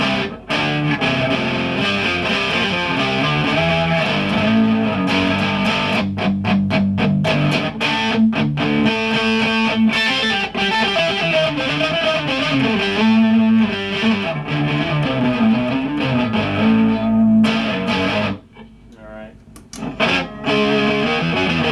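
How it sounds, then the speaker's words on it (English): Heavily distorted electric guitar through an Electro-Harmonix HOG pedal plays loud, dense chords and riffs continuously, briefly dropping to a quieter passage near the end. "these things really come to life when you add a little bit of distortion"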